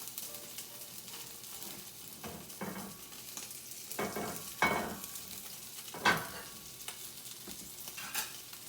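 Salmon fillet about 1.25 inches thick searing skin side down in a hot skillet, giving a steady soft sizzle with a few louder crackling bursts and scraping stirs, no voices.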